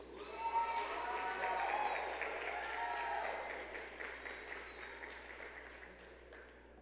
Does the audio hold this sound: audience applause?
yes